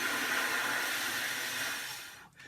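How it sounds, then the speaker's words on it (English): Steady exhaled airflow held for a long-tone breathing exercise, a continuous, even breathy hiss close to the microphone that fades slightly before a brief dip at the end. "you're going to take a deep breath, use all your air, but you're going to keep a steady airflow like this"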